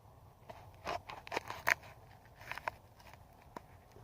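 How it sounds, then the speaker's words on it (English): A 7 Pot Douglah chili pepper pod being cut open: faint, crisp snips and crunches in small clusters, then a couple of isolated clicks, close by in a quiet room. "Alright, cut this pod open."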